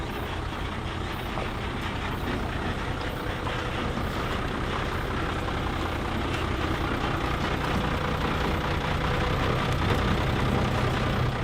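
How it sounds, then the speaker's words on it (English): A truck carrying a huge firework shell to the launching spot gives a low, steady engine rumble that holds constant and fairly faint throughout, with no voices. "Honda-san directs the truck to the launching spot"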